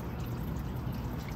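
Water pours and trickles steadily as a handful of wet fleece is lifted out of hot water over a surface that can get wet. The sound is soft and continuous, and no one talks over it.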